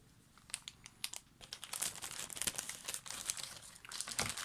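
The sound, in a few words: cutting open plastic bag of chrome model kit parts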